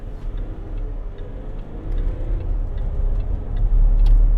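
A Range Rover Sport 3.0 SD V6 with an 8-speed gearbox pulls away under throttle, a low engine rumble building gradually in loudness from inside the cabin, with faint ticking over it and no talking.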